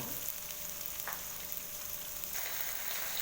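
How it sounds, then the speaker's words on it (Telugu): Onions with chillies frying in a pan for a cauliflower and potato curry, a steady close hiss of sizzling with a couple of faint stirring scrapes, no talk. "వాటిని బాగా ఫ్రై అవ్వాలి."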